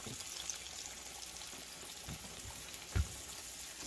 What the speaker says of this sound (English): you see that fish frying